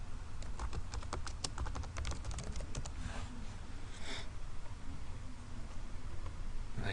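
Quick bursts of keystrokes on a computer keyboard while entering text into an Excel spreadsheet, close and fairly faint, with a dense flurry of taps that thins out into sparser clicks.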